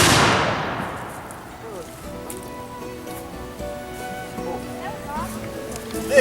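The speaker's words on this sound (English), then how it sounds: "This is a matchlock musket." A matchlock musket fired at a historic fort reenactment sounds as one loud, sharp blast at the very start, followed by a long fading rumble and echo, with people talking quietly in the background as the report dies away.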